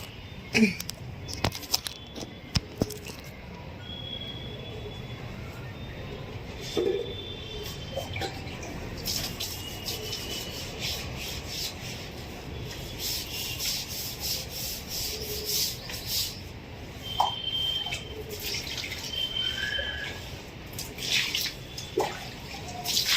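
Water sloshed from buckets across an outdoor floor slick with rain-grown moss, splashing and scrubbing in irregular bursts with drips and rubbing scrapes, close by over a steady wet background.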